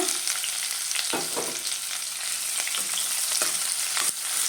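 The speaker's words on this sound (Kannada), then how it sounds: "ಇದು ಚೆನ್ನಾಗಿ ಫ್ರೈ ಮಾಡ್ಕೊಬೇಕು." Long-sliced onions, two of them, fry in oil in a pan at low heat for a Chettinad chicken curry, giving a steady broadband sizzle with occasional scraping stirs, close and fairly loud, with no talking.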